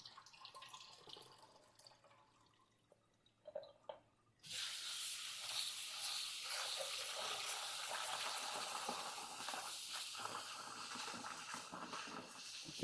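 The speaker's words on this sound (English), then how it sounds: "Rinse out this cabbage." Red cabbage being rinsed under a kitchen tap: quiet handling and a few soft knocks come first, then the faucet opens sharply and water rushes steadily and loudly over the leaves for the rest of the clip.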